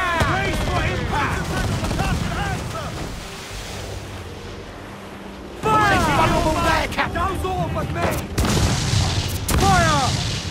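Naval battle in Assassin's Creed Black Flag, with booming cannon and mortar fire from sailing ships over roaring waves and wind, while shouting voices carry throughout.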